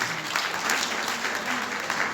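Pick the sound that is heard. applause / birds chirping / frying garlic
applause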